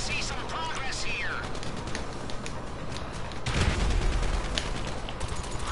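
Gunfire in a GTA street shootout, a dense stream of rapid shots and bursts running throughout with a heavier boom near the middle, loud and busy, with voices mixed in.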